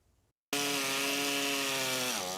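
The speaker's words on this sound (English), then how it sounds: "You better get used to the sound of chainsaws." Chainsaw cutting storm-damaged trees, a loud close buzzing roar that starts abruptly after a short pause and holds steady, dipping slightly in pitch near the end as it bites into the wood.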